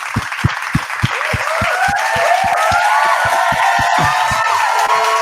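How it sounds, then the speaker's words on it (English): Group clapping and cheering at a beat-making podcast session celebrating a producer's project, with steady loud applause, a few clear hand claps, and whoops and shouts building over it. "But we got to clap it up one more time"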